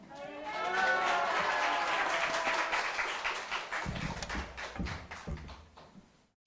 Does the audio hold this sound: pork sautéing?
no